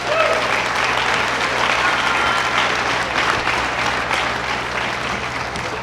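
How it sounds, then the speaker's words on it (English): A crowd in a gym claps during player introductions at a girls basketball game, producing a dense, sustained applause that holds for several seconds and tapers slightly at the end. "One big round of applause, please."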